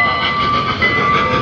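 A trackless tourist train rolls around ICON Park in Orlando, heard as a steady, fairly loud hum and rumble with a sustained tonal whine and no talk over it.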